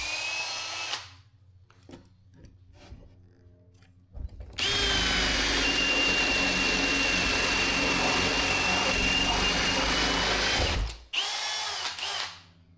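A power drill fitted with a cabinet hinge hole bit bores recessed hinge holes in a cabinet door, whining loudly and steadily for several seconds, with a brief spin-up before and a short second burst after, close by.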